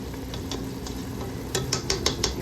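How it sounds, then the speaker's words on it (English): Spinach stew frying in palm oil, stirred in a pot: a steady close sizzle with scraping stir strokes that grow louder and more rhythmic in the second half. "We're just letting this fry down a little bit."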